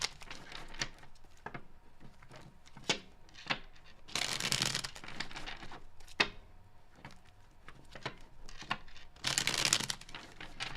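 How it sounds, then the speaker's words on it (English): Tarot cards being shuffled by hand, giving repeated riffling bursts and soft papery flicks at close range, with two longer, louder riffle sweeps around the middle and near the end. "Last shuffle for Taurians for their before and after story."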